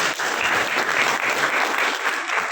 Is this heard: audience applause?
yes